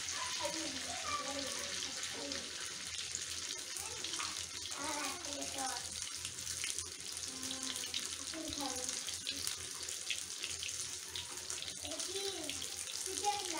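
Chicken rice balls fry in hot oil with a steady, watery hiss and crackle, while a speaker talks over it throughout.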